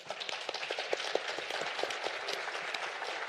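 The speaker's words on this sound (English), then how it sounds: "Can we please give them a round of applause?" Conference audience applauds panelists at a competition law, economics and policy event, with dense, steady clapping filling the room from start to finish, loud and close, without speech.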